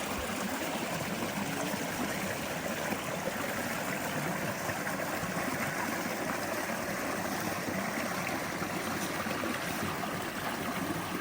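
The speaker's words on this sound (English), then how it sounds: "There's a waterfall sound." A waterfall at a state park rushes as a steady, unbroken wash of falling water, even and continuous, heard from a moderate distance with no talk.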